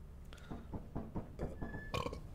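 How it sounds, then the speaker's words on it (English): A long, throaty burp, rumbling close to the microphone in several rough pulses over about two seconds, with no speech. "I don't mean to burp in my streams all the time."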